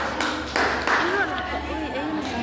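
Audience clapping for a speaker at a class talk, a few sharp bursts of hand claps, with a voice speaking over and after them.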